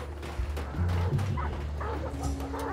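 Dogs in the bayou setting of the video game Hunt: Showdown bark and yip continuously at fairly close range, set against low rumbling ambience and a steady drone.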